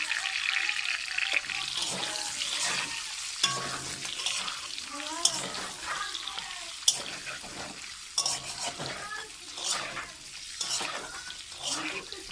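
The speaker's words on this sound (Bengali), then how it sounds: "ভালো করে ভেজে নেবো ডিমগুলো" Beaten eggs seasoned with turmeric and salt fry in a pan for an egg and potato gravy, sizzling steadily as a spatula scrapes and stirs in irregular strokes, with occasional sharper clinks.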